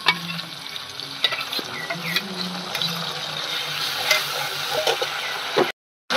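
Chopped tomato hits hot oil and sizzles steadily, with stirring clinks and scrapes over the frying before a short cut to silence near the end. The oil already holds a chili, ginger and cumin paste.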